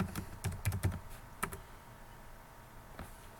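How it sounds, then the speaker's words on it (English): Keystrokes on a computer keyboard as a username and password are entered at a command-line login, a quick burst of close clicks early on, then a few isolated taps separated by pauses. "type in the same username and password"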